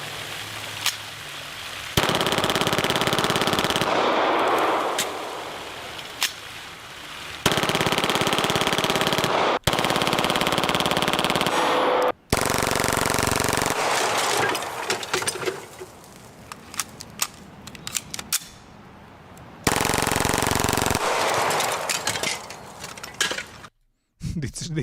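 Glock pistol fitted with many attachments firing rapid full-auto bursts, loud harsh cracking strings broken by short pauses, with voices heard between the bursts.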